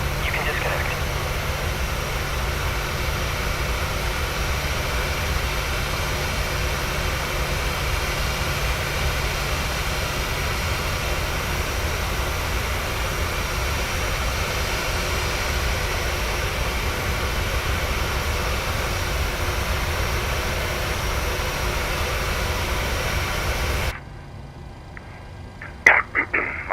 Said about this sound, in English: So we have two running engines.